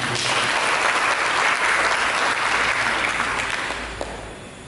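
Congregation applause during a church sermon, dense sustained clapping filling the room, steady and loud before tapering slightly near the end.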